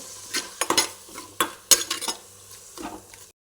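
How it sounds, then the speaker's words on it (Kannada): Cleaned prawns tossed into hot oil in a pan, with sharp metallic clinks and scrapes of a spoon against the pan over a low sizzle, in irregular bursts. "ಇವಾಗ ಕ್ಲೀನ್ ಮಾಡಿರುವಂಥ ಮೀನು ಹಾಕ್ತಾ ಇದ್ದೇನೆ ಸಿಗಡಿ ಮೀನನ್ನು ಇದು ಕೂಡ ಸ್ವಲ್ಪ ಫ್ರೈ ಆಗಲಿ"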